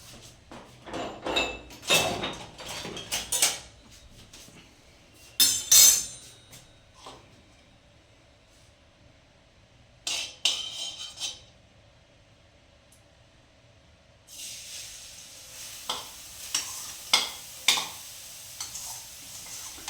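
Grated carrots for gajar halwa are stirred in hot ghee in a home kitchen, with irregular scraping and clinking of a spoon against the pan over a low sizzle that swells in the final stretch.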